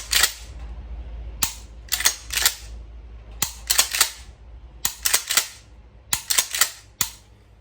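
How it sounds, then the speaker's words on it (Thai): A shotgun firing 9-pellet buckshot outdoors across an open field at about 50 meters; roughly a dozen sharp, loud blasts come at irregular intervals, some in quick pairs, each with a brief ringing tail. "วันนี้ให้ดู เบื้องต้นกับการใช้ ลูกซองนะฮะ กับกระสุน 9 เม็ดนะฮะ"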